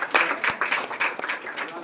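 Brief applause from an audience at a school science exhibition, scattered hand claps mixed with voices over a short moment.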